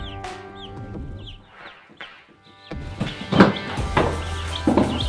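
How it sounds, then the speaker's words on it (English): Baby chicks in a homemade brooder box peep and cheep, starting sparse and faint, then swelling into a busier, louder chorus of calls and scratching in the second half. "Chicks are so happy in there. They're eating, they're drinking, they're making a mess"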